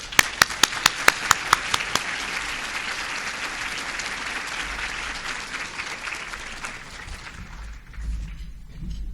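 Luncheon audience bursts into sustained applause welcoming a speaker to the stage, dense clapping throughout, with a few sharp nearby claps at the start and the crowd thinning out toward the end.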